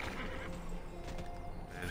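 Horse whinnying in the online game TERA, a clear neigh with clip-clop hoof steps, moderately loud and close against a low game background.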